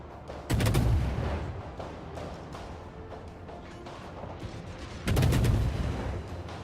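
Two sharp bursts of gunfire from an Age of Empires match with the Kiev civilization, loud volleys about five seconds apart, each trailing off into the low din of battle.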